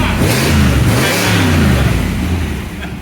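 A 1965 Thunderbird resto-mod fitted with a 500 cubic inch Cadillac engine revs loudly and close by, its deep note climbing and falling through several throttle blips over a steady rumble.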